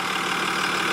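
Cummins diesel engine idling with a steady, loud, even rumble that holds unchanged throughout, no voices over it.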